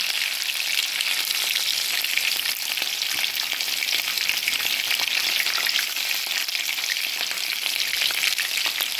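Cumin seeds and pepper fry in hot oil with a loud, continuous crackling sizzle full of dense tiny pops, heard up close and unbroken for the whole stretch, with no voices.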